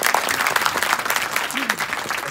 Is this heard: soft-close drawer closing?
no